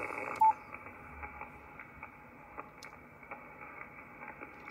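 Amateur radio receiver noise from a Yaesu FTDX 5000 with its noise blanker engaged, a faint steady hiss broken by soft, scattered clicks and a brief tone burst near the start, with no voices.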